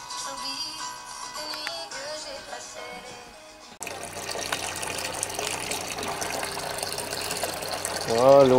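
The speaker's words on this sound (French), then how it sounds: "Voilà, l'eau courante." Running water pours from a tap in a winter chalet, a steady broadband gush that starts abruptly partway through and continues loud and close, after a quieter stretch of background noise.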